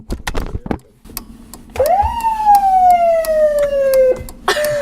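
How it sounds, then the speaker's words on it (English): An emergency vehicle's siren switches on with a rising wail and then holds a long, loud tone close by, after a few clicks and knocks, ending with a brief second burst. "Are you allowed to turn on the sirens?"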